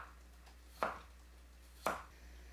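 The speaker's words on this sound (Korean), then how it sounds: "마늘은 다져서 준비해요." Knife chopping garlic on a cutting board while preparing a Korean sandfish stew, with two sharp isolated chops spaced about a second apart over a low steady hum.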